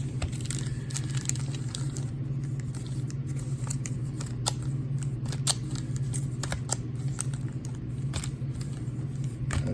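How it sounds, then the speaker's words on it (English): Lacrosse trading card packs from a 2019 Major League Lacrosse hobby box are torn open, crinkly foil ripping in close, repeated bursts over a low steady hum. "We'll probably rip all 20 of these packs."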